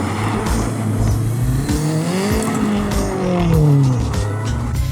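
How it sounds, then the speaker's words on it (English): A Subaru STI doing donuts in snow during a blizzard, its engine loud and close, revving and rising and falling in pitch as it spins, with tires scrabbling underneath. "So naturally, I had to do some victory donuts in the STI."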